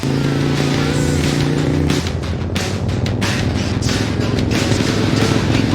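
Arch motorcycle engine, a special Cyberpunk 2077 version, runs loud and close with a steady throaty drone that shifts pitch about two seconds in, then holds a rough, continuous rumble.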